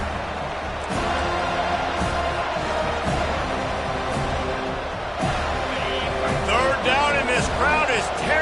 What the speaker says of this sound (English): Crowd is tearing the lid off this place.